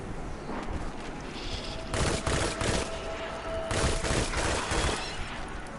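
Destiny 2 pulse rifle firing three-round bursts, several sharp bursts clustered around the middle and near the end, loud and close, with faint game ambience between them.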